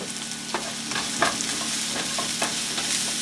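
Onions frying in a pan for bitter melon (karela) fry, stirred with a utensil: a steady broad sizzle with several scraping stir strokes, close and fairly loud, no voices.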